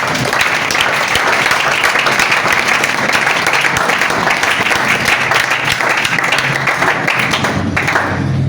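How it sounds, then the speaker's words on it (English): A crowd at a public speaking event claps loudly and steadily throughout, a dense wash of applause with no pauses and no voices. "Clap louder for Sir Syed Shahid Khan."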